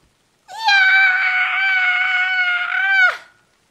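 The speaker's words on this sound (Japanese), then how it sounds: "2階の姉貴の部屋から絶叫が聞こえた。" A single long, piercing scream lasting about two and a half seconds, used as a horror sound effect coming from a sister's upstairs room, loud and sustained, then cut off sharply.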